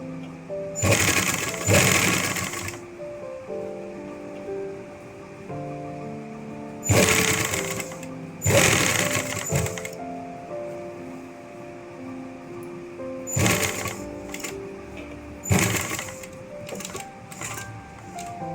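Sewing machine stitching designer kurti fabric right along the edge, in several loud bursts of fast rhythmic needle chatter separated by quieter pauses with faint background music.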